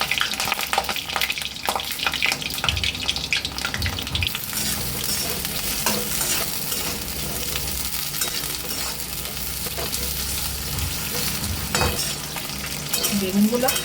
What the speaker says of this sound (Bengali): গরম হয়ে গেছে, একটু বেগুনগুলো ভেজে নেব।